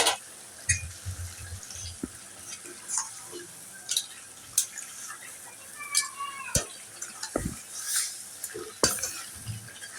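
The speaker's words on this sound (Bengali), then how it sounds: "আমি ভেন্ডিটা ভালো করে কষিয়ে নিব" Okra (bhindi) stir-fried in a pan for a vegetarian dish with salted hilsa, spatula scraping and clattering against the pan in irregular strokes over a soft sizzle, close by.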